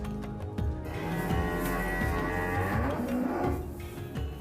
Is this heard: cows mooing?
yes